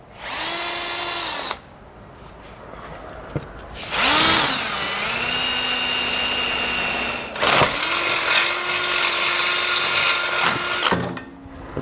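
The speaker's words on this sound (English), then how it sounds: "both those holes drilled out" A power drill boring holes through a 2022 Ram 1500 truck frame for a base plate, three sustained loud whining runs with pitch changing under load, separated by short pauses, close by.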